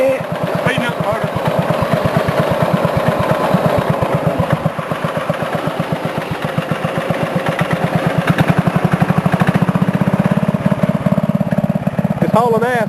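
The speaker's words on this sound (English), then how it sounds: "Speeding up the motor." A walk-behind lawn mower engine runs loud and close, its steady chugging rumble building in pace as the motor is sped up, with people talking briefly over it.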